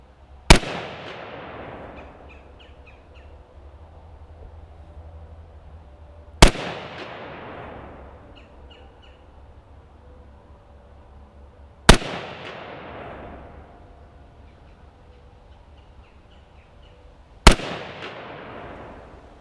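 A rifle fitted with an HK drum diopter sight fires four loud, sharp shots spaced about five or six seconds apart, each ringing out into a long decaying echo outdoors.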